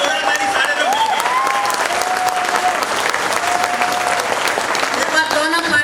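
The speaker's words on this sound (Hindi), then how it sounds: "एक बार जोरदार ताली सारे लोग मिलके" An audience at an indoor corporate team event claps loudly and continuously for both teams, a dense sustained applause with scattered cheers and voices mixed in.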